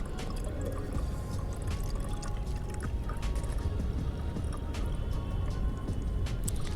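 Homemade liquid fertilizer water for rose plants being strained and poured by hand, a steady close liquid trickle with small drips and squishy splashes, continuous and fairly quiet throughout.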